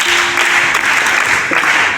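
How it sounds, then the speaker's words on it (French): A church congregation gathered for a solemn Sunday school opening ceremony claps loudly and continuously, a dense, close wash of applause that fills the whole moment. "On a applaudi fort."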